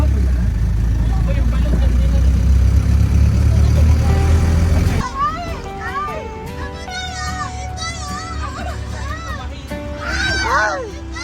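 A loud vehicle engine rumbles steadily through the first five seconds, then drops away as music with a singing voice takes over.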